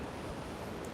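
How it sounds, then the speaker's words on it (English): Ocean waves break near a seaside hotel, heard as a steady, dense roar of surf mixed with wind rumble, with no voices. "Some pretty good sized waves"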